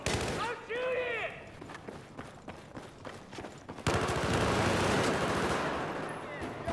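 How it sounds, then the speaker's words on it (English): Rapid gunfire in a video game, loud bursts of shots close by, with a denser, sustained volley of firing in the second half. "I'm shooting!"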